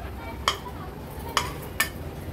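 Cooked pumpkin and jaggery are stirred in a pot, with three brief, sharp clinks of a spoon against the pot's side, spaced apart over a soft, steady background hiss.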